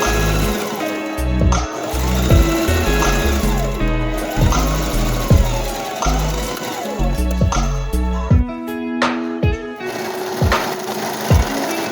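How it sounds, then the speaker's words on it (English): A sewing machine stitches the fabric strap pieces of a child's wrap top with ruffle sleeves, running in steady rhythmic bursts close by, with music playing throughout. "Let's get to sewing."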